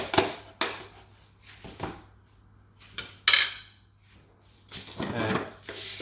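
A spoon mixes salt into raw salmon recipe ingredients in a bowl, giving several close, sharp clinks and scrapes against the dish, separated by short pauses and ending in a longer rustling stir.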